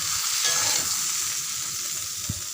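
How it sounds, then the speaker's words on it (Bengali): Pointed gourd and potato frying in oil with panch phoron spices, a steady close hiss of sizzling with soft stirring and a single light knock near the end, no talking. "এই জন্য আলু তেলের ওপর পাঁচফোড়ন দিয়ে আলু পটল একটু ভেজে নিচ্ছি"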